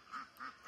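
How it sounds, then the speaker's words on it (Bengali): Ducks at a pond, white and grey birds among them, give a few quick quacks in a steady rhythm, about three calls in under a second, moderately close and fairly quiet, with no talking. "এইখানে যে হাঁসগুলো দেখতে পাচ্ছেন"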